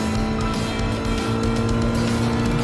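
A Toyota GR86 with a 2.4-litre engine accelerates hard in the Gran Turismo Sport racing game on the straight after the Spoon curve, a loud, continuous, buzzing engine drone that holds steady at high revs.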